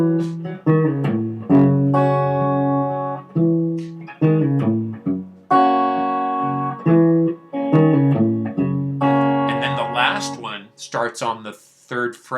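Fingerstyle acoustic guitar picks single notes on the lower two strings, a steady pattern of plucks up close, with higher notes and brief string squeaks near the end.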